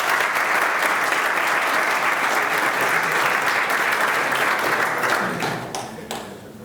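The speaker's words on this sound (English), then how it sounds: "So, big round of applause for Andrea Leopardi." Sustained applause from a conference audience at an Elixir programming conference, a dense steady wash of clapping that fades out near the end with no talking.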